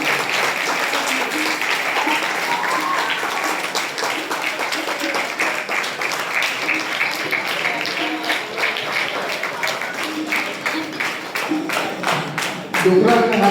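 Sustained crowd applause, dense and loud clapping from an audience throughout, with a brief louder surge near the end and murmured voices mixed underneath.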